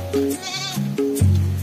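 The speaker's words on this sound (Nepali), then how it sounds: "त्यो त बाख्रा कराइसक्यो" Goat bleating on a village trip in Nepal: several distinct, loud, wavering bleats in close succession, near the listener, with brief gaps between calls.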